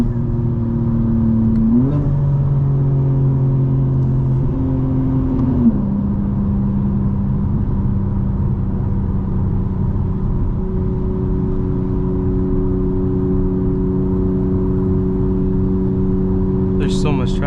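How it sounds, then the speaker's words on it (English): Interior cabin sound of a 2024 BMW M4 Competition xDrive: a steady, droning engine note that steps through a couple of gear-change pitch shifts, then settles into a sustained cruise hum, close and constant. "I mean, you can still hear the car inside."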